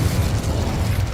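A Confringo blast spell goes off in the Hogwarts Legacy video game, a dense, steady low rumble of explosive energy that holds at full loudness for about a second with no voices.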